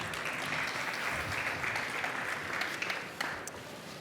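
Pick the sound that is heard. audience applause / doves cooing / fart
audience applause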